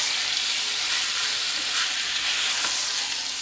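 Chicken pieces for shawarma being stirred as they fry in a pan, a loud, steady hiss of sizzling oil with faint scraping of the stirring, heard close and without talk.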